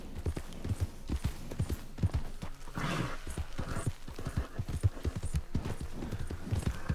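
Horse hooves clip-clopping in Red Dead Redemption 2, a steady rhythmic gait of crisp close hoofbeats on ground with a brief snort partway through, no talking.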